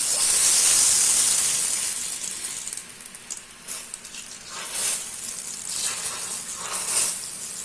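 Gram flour omapodi dough fries in hot oil with a loud, steady hissing sizzle, strongest at the start and then settling into softer crackling bursts, close up with no voices.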